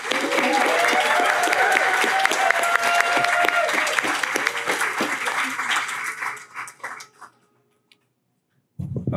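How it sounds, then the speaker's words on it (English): Audience applause at a family medicine residency graduation ceremony, dense sustained clapping with tonal background sound that fades out after about six seconds, then silence and a brief voice at the end. "If we can give them all a round of applause,"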